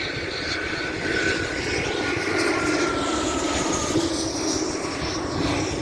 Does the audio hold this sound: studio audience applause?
no